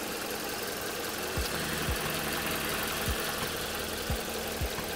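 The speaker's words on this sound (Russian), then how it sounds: "Двигатель мягко работает." A Toyota Wish 1.8 petrol engine idling smoothly, a low steady hum with faint regular ticks, fairly quiet and heard alone without speech.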